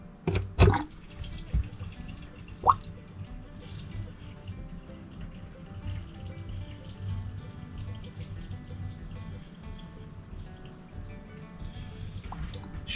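Water drains slowly from a sink after the plug is pulled, giving a low, steady gurgling rush with a few sharp clunks near the start.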